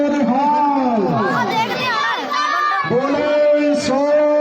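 A large crowd at a Haryana kabaddi final roars a Sikh jaikara together, many voices rising and falling in loud overlapping shouts and cheers that carry through the whole stretch.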